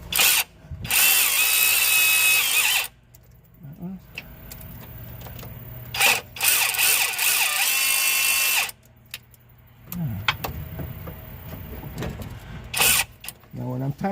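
Close, loud power tool runs removing transmission pan bolts on a 2014 Toyota during a fluid and filter change, long whirring bursts of two to three seconds separated by quieter stretches with mechanical clatter and brief talk.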